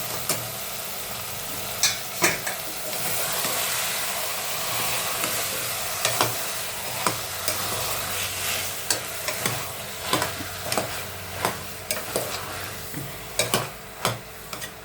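Vegetables, green peas and tomato fry for a kurma in a pan, with a steady sizzle throughout and repeated sharp scrapes and clinks of a spatula stirring at irregular intervals, close by and with no talking.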